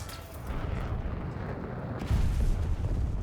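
Tank cannon rounds strike the player's T-62M-1 in War Thunder, heard as a dense, rumbling low boom that swells and rolls on for the whole few seconds, with a heavier surge of impact noise midway through.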